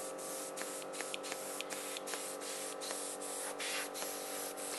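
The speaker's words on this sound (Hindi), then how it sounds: "इस सोल्यूशन को इस तरह से स्प्रे आउट कर देना है।" A skin treatment machine's handpiece sprays a vitamin solution in a steady, faint hiss, broken by soft, repeated ticks and clicks.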